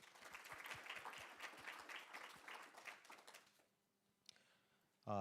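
An audience at a scholarship awards ceremony claps steadily for about three and a half seconds, then the applause dies away to near quiet before a brief noise at the end.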